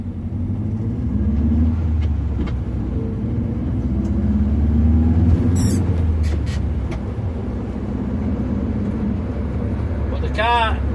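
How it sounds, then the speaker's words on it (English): A Ford Zephyr V4 car motors steadily along, its low engine drone and road rumble continuous and close, with faint voices over the noise and a brief higher chirp near the end. "we're just motoring along now"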